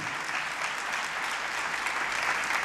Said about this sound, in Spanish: no es un aplauso universal